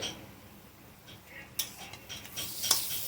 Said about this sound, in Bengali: এরকম বোড়া ভেজে নিচ্ছি